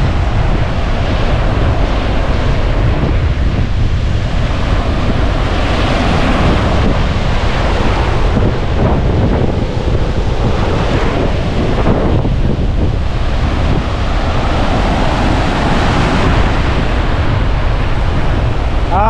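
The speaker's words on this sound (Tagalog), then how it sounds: "Malaki ng alo, no?" Large ocean waves crash and roll after a storm while strong wind buffets the microphone, a loud, constant roaring surge with swelling rumbles throughout.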